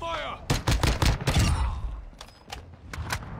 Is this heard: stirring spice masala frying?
no